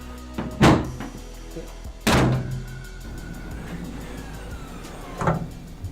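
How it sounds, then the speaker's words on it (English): Two heavy thunks of a Miata's hood slamming shut, a few seconds apart, then a softer third knock, close by with quiet in between. "the first few times you close and open the hood, it is going to have some resistance"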